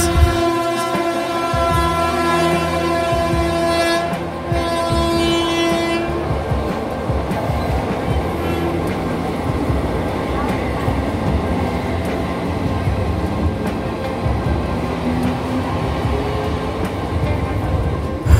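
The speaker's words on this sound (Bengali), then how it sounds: "একদম সঠিক সময়ে উত্তরপাড়া থেকে আমাদের ট্রেন ছেড়ে দিয়েছে" A train horn sounds early, then loud continuous rumbling and rhythmic clattering of wheels as the Howrah–Radhikapur Kulik Express rolls out of Uttarpara station and gathers pace.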